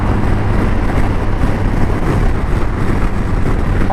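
A BMW R1250 RT boxer motorcycle engine pulls steadily at highway speed, a continuous droning hum blended with heavy wind rush, loud and unbroken for the whole stretch.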